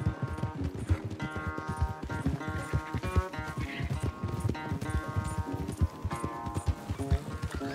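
A horse gallops hard during a race in Red Dead Redemption 2, its hoofbeats a fast, steady, close clip-clop that runs throughout under music.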